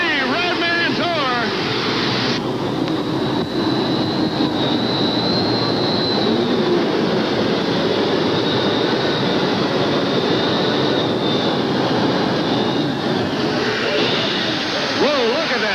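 A jet turbine-powered pulling vehicle roars steadily at a 1988 TNT tractor and truck pulling event in Charlotte, NC, a loud continuous whine and rumble under crowd noise and an announcer's talk throughout.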